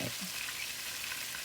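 Breaded steak bites fry in a pan with a dense, continuous hiss and sizzle, steady and close, with faint scrapes as they are turned.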